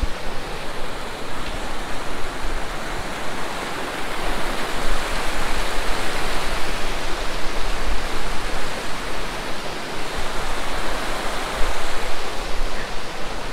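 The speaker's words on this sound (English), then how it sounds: "The sound of the running water is so lovely." Rushing water at a mountain river crossing on an alpine trail, a loud, steady broadband roar like a waterfall that continues without a break, with no voices.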